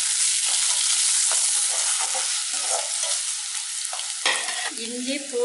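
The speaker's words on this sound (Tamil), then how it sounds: "வெங்காயத்தை போட்டு ரெண்டு நிமிடம் வதக்கி விட்டுக்கலாம்." Onions sauté in hot oil with urad dal and curry leaves, a loud, close, continuous sizzle with intermittent spatula scrapes and stirring sounds throughout.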